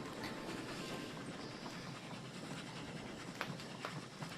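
A ride on a small train in the automation game Oddsparks, with a quiet, steady rolling rumble and faint clickety-clack running under scattered light ticks and clicks.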